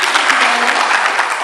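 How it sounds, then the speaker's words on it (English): A gubernatorial election debate audience breaks into dense, loud, continuous applause, a steady wash of many hands clapping at once with no pauses. "No clapping, please."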